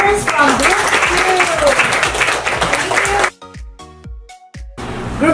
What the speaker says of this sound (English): Let's give a big round of applause to our reporters from Group 2.